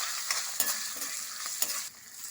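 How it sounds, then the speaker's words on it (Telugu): Green chillies drop into hot tempering oil with asafoetida in a pan, giving a continuous bright sizzle with a few sharp stirring clicks, close and steady, then easing slightly near the end; no talking. "ఇప్పుడు ఇలా పోపు వేగిపోయింది కదా, ఇప్పుడు ఇందులోకి పచ్చిమిరపకాయలు వేస్తున్నాను"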